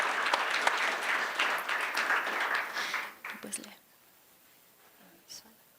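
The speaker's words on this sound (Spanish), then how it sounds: "Aplausos a todos los ganadores en la categoría Prensa Web." An audience at a border journalism awards ceremony applauds the winners, a dense burst of clapping that fades out after about three seconds, followed by near silence with a few faint sounds.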